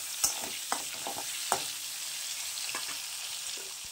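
Tomato and spices frying in oil in a pan for a thin snakehead fish curry with potato and cauliflower, a constant hissing sizzle broken by a few sharp stirring knocks, no voices.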